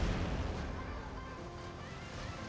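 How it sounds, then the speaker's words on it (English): Heavy weapons fire pounds a robot in the War Robots game, a dense continuous barrage of booming blasts and rumble filling the whole stretch at steady loud level with no pauses. "he's shooting me with everything he has got"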